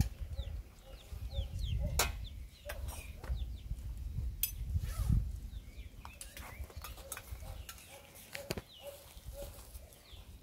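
Rapid, high chick peeps repeat throughout among clucking farm fowl, faint and close, with clinks and rustling in the foreground on a farm.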